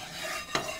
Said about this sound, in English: Maybe I should use a spatula to kind of distribute the oil evenly around.